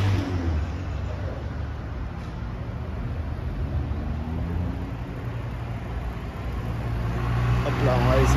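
Cars drive past on a Monaco street at night, a steady broad road rush with an engine swelling louder toward the end, while someone talks over it.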